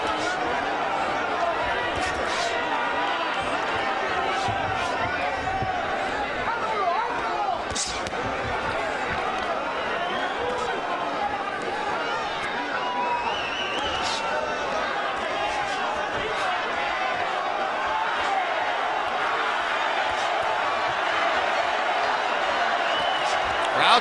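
Boxing arena crowd roaring steadily through the Canelo Alvarez vs Alfonso Gomez fight, a dense continuous wall of cheering and chatter with occasional sharp shouts and claps, under a commentator's voice.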